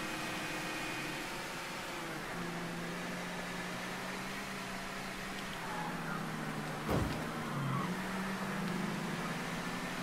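A car driving in the video game Mafia III: a steady engine drone under broad noise, a low tone shifting pitch as the car moves, and a sharp transient near the end.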